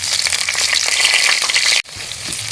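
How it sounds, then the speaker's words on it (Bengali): Chopped tomato frying in oil in a pan for khichuri, a loud, dense crackling sizzle heard up close that cuts out abruptly for an instant and then carries on slightly quieter. "টমেটোটা ভাজা ভাজা হয়ে গলে যাচ্ছে"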